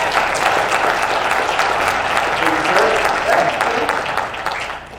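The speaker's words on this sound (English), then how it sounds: "let's give a big, warm round of applause for Mr." Audience applause greets Doug Nesbitt at a Tennessee realtor business development event, steady broadband clapping from a crowd lasting about five seconds at fairly close, even loudness before tapering slightly at the end.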